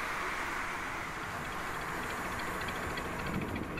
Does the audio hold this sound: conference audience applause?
no